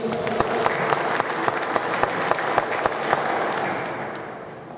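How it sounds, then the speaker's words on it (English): A group claps enthusiastically for several seconds, with some sharper individual claps standing out, gradually tapering off at the end. "Let's give them a round of applause"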